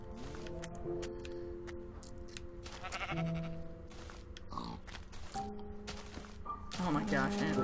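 Sheep in Minecraft give short bleats scattered among clicks and game effects, moderately loud, while a player talks over them.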